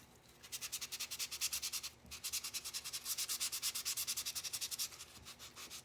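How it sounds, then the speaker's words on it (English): Rapid, rhythmic strokes of sandpaper rubbing back and forth on the back side of a sander grinder belt, close and steady, with a brief pause midway. "Now this is the back side I'm sanding here."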